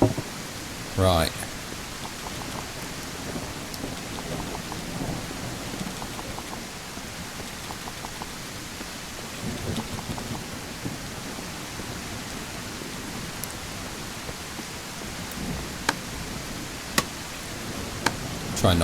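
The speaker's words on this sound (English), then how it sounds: "More rain." Steady rain hisses evenly throughout a Mist Survival game scene, with a few scattered sharper drips and clicks; no distinct thunder stands out.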